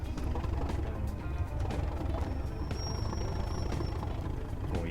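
A Class 37 diesel locomotive in Train Sim World 2 takes up the strain with a heavy, low, rumbling engine drone. Faint clanks run through it and a thin high whine rises midway, steady and continuous with no speech.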